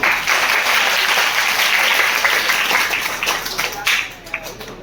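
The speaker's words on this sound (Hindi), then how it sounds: "बच्चों तालियां बजाते हैं" A crowd of schoolchildren applauds at a Hindi poetry gathering held in an educational institute, the clapping dense and steady before thinning out toward the end.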